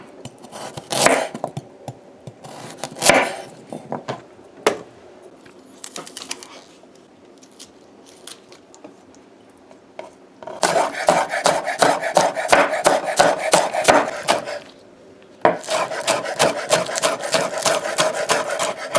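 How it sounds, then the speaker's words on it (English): Carrots are peeled with quick scraping strokes at close range, starting as scattered scrapes and then building into two sustained stretches of rapid, rhythmic rasping. "So a quick way of peeling your carrots"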